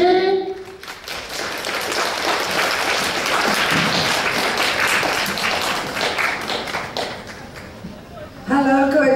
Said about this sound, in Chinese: 让我们以热烈的掌声欢迎陈文茜陈老师。